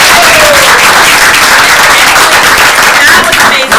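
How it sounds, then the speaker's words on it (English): A student network audience gives a big round of applause, loud close-up clapping filling the whole few seconds, with scattered voices mixed into the clapping. "can we get a big round of applause for Dulcie and crew?"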